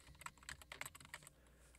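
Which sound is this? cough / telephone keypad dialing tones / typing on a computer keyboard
typing on a computer keyboard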